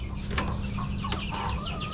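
Chickens and chicks clucking close by in a farmyard, a steady mix of short clucks and peeps over constant low background noise, with no talking.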